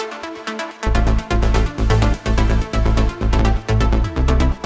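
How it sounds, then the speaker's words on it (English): Synth pluck and lead from a progressive house remix joined by a heavy bass that pumps in rhythmic pulses after a short opening, the bright fast plucks riding over it, dense and loud with no talking. "And again with the bass."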